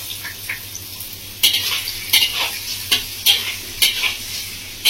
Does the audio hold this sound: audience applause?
no